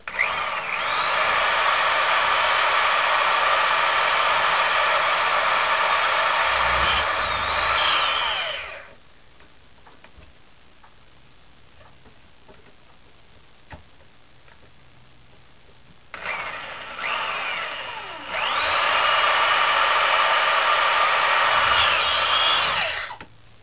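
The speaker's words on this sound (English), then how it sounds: "My drill is noisy, it's old." A loud whining old power drill runs for several seconds while drilling a six-millimeter hole in a brake shoe, stops to near silence, then whirs up again for another long burst.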